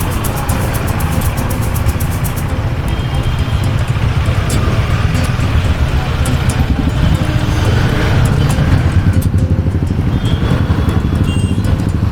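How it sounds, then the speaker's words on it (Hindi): A Husqvarna Svartpilen 250 scrambler motorcycle riding steadily in third gear through city traffic, with a continuous loud, close engine drone and road noise and no pauses. "तो थर्ड गियर में भी गाड़ी आराम से चल जाती है।"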